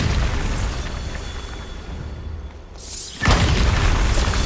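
A Bombarda explosion spell going off in the video game Hogwarts Legacy, a sudden heavy boom bursting out of steady background rumble near the end, loud and close with no voice over it.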